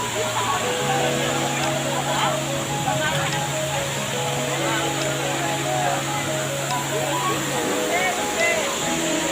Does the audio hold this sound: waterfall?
yes